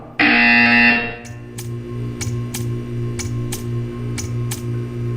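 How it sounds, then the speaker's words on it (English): A loud, harsh electronic buzzer from the video game Portal 2 blares for about a second, followed by a steady low hum punctuated by regular faint ticks. "You will hear a buzzer. When you hear the buzzer, stare at the art."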